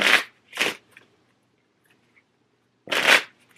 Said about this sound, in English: 10 of diamonds back in the deck, and we'll shuffle